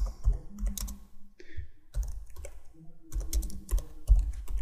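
Clattering keystrokes on a computer keyboard come in quick bursts separated by short pauses, close and fairly crisp, with no voices.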